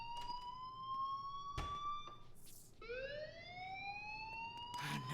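A fire alarm sounds in the video game Life Is Strange: a faint electronic wail of steady tones that breaks off, then returns as rising, sweeping pitches, with brief bursts of other game noise.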